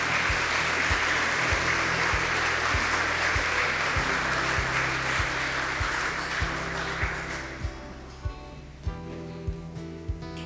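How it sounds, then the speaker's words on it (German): Audience applause at a volunteer honours gala on a stage in Gotha, steady dense clapping over a regular low musical beat, the clapping thinning out toward the end while the beat continues. "Das ist Ihr Applaus."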